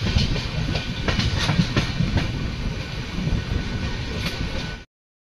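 A train rolls along the rails at steady speed, with a continuous loud rumble and regular clickety-clack wheel beats, close and alone, until it cuts off abruptly near the end.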